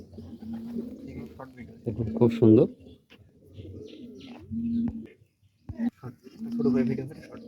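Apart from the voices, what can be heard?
pigeons cooing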